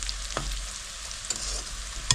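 Onions fry in oil in a pan for a Bengali katla fish curry, a steady close sizzle broken by a few sharp stirring scrapes.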